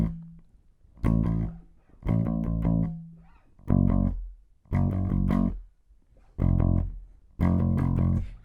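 Bass guitar plays the verse of a song in short, punchy, gritty-toned phrases. Brief gaps separate the phrases in a repeating pattern, with the instrument heard alone and up close.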